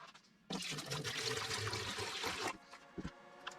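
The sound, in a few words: water being poured into a QEP 700 XT wet tile saw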